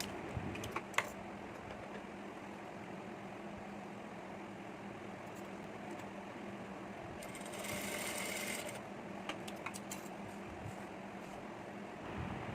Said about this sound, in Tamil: கோல்டன் கலர் பார்டர் மேலேயே தான் நான் தையல் போடுறேன்.